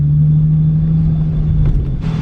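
A Nissan 350Z rolls into a car wash, its low engine rumble and steady hum loud and close throughout, with a brief hiss near the end.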